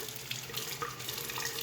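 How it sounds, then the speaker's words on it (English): A bathroom tap runs steadily while Wilkinson Sword shaving soap is lathered in a bowl, a continuous close splashing hiss of water with no voices. "gonna add some more water."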